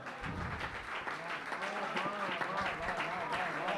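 Audience applause fills a Hindi hasya kavi sammelan poetry hall, a steady dense wash of clapping lasting throughout, with voices and cheers mixed in.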